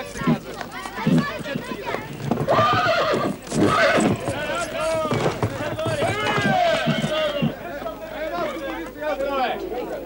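Horses neigh and whinny while hooves clop over a busy outdoor scene of wartime movement, with people shouting and talking throughout the sound.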